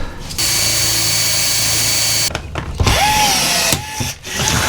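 A power tool works on a rivet in a truck frame during a rear-end separation repair, making loud, close drilling and grinding bursts. Short gaps break the noise, and a whining pitch glides down near the end.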